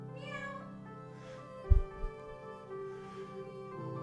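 A pet cat named Sophia meows in a drawn-out, wavering call, with a couple of soft thumps partway through and a second quieter meow near the end, heard close and alone.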